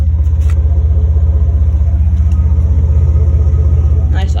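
A 4.3 liter V6 Chevy Blazer fitted with Flowmaster Super 10 mufflers and dual four-inch tips idles nearby with a loud, deep, even rumble that pulses steadily, while someone talks over it.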